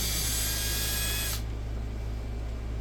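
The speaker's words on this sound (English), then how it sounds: "it's kind of nasty when you're drilling it, and it leaves a lot of crap behind" A power drill bores into a PETG plastic protection rail for a Xiegu X6100 ham radio, a loud steady high whine that abruptly cuts off partway, leaving quiet background hum.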